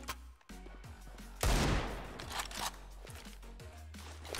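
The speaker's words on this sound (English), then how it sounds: "Shotgun." Shotgun blasts from Counter-Strike gameplay, with one loud burst standing out and a few sharper clicks and shots scattered over steady background music and game noise.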